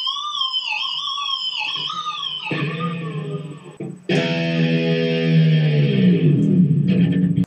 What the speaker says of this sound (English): you can combine harmonics with the whammy bar and you can get some pretty unique sounds